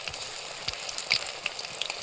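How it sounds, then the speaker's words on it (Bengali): Prawn pakoras fry in oil over a low flame, a close, continuous crackling sizzle with scattered small pops throughout. "হালকা ফ্লেমে এগুলোকে আমি ভেজে নেব।"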